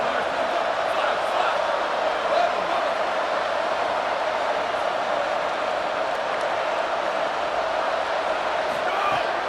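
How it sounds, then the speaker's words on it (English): A stadium crowd at a Texas versus Texas Tech college football game roars in a sustained, distant-sounding wall of cheering and noise on a third down. "The crowd electric trying to help Tech on this 3rd down."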